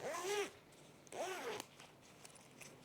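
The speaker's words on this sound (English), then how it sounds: "now we're going to open our zipper up" A zipper on a fleece jacket is pulled open in two quick, close strokes, each a short raspy zip, followed by quiet handling.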